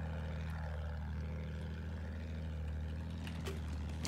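A propeller warplane drones steadily across a Battlefield 1 battlefield, a continuous engine hum that stays fairly distant and even, with small impact sounds near the end.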